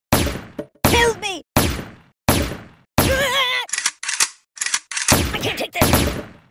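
Gunfire from a golden gun in the video game Kick the Buddy sounds as a series of sharp, loud bursts separated by brief silences. Cartoonish character groans and vocal yelps are mixed in.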